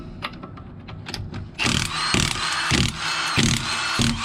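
A wheel is pulled off a Lexus IS300 using a ratchet: light ratcheting clicks at first, then a louder, steady mechanical whirring with rhythmic surges, up close and without talk.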